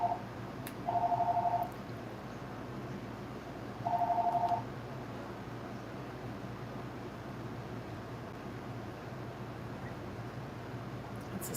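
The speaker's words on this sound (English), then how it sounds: "Phone's ringing." A telephone rings twice indoors, two steady electronic tones each lasting under a second and spaced a few seconds apart, then only a low hum and room noise remain.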